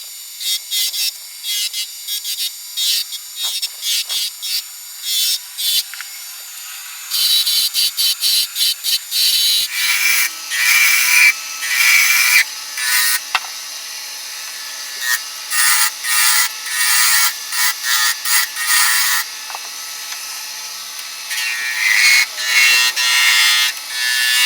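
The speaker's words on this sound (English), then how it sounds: "this small hammerhead, so I'm just going to be shaving it down." Hand shaving of a small narrow hammerhead, rasp-like wooden rubbing strokes in rapid bursts, sparse at first, then denser and louder runs of scraping close by with short pauses between sets.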